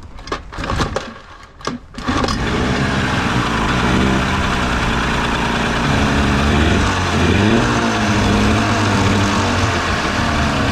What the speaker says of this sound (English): the engine has been fixed